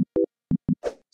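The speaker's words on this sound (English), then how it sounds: "just fire up your favorite synth, choose a simple sine wave without anything to it" A simple sine-wave synth organ sound playing a reggae organ bubble: short, clean tonal stabs in a choppy offbeat rhythm, four quick notes followed by a softer blurred tail, close and alone.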